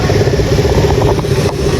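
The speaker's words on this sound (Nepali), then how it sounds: "बाइकहरू जान्छ" Motorcycles ride past on a mountain road near a waterfall, a loud, close engine drone with mid-range rumble that holds steady throughout the short stretch.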